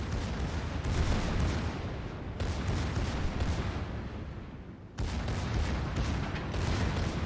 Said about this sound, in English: I'm focusing my main battery onto the Iowa